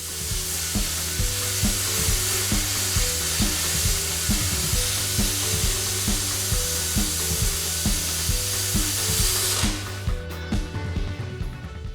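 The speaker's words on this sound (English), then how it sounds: "After I cut a hole in the sprocket with the plasma cutter" A plasma cutter cuts a hole in a steel 428 chain sprocket, producing a steady loud hiss and crackle with a pulsing hum underneath, continuous until it stops near the end.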